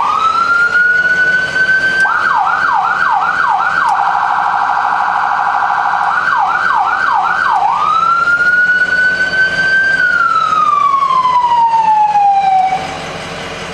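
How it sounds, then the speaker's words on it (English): A loud electronic siren on a 2005 Ford E450 emergency vehicle sweeps up into a steady tone, switches to rapid yelping warbles, then holds and glides back down before cutting off. "Then obviously we have our electronic siren."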